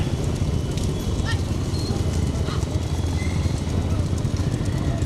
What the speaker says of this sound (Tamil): மாட்டை சேர்த்து விடுற நேரம் மாடு வந்து சேர்ந்துருச்சு.